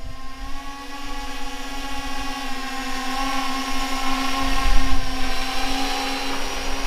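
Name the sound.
drone flying over a frozen lake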